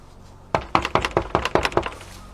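A rapid series of about ten sharp knocks on wood, evenly spaced and fairly loud, after a brief quiet moment.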